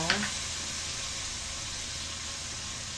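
Soy sauce hits sautéed chicken in a hot pan, a brief splash followed by a loud, continuous sizzle and frying hiss that fills the rest of the moment.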